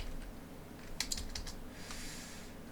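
A few quiet keystrokes tap on a computer keyboard while someone types a short list into OneNote. The clicks come in a brief, irregular cluster over faint room noise.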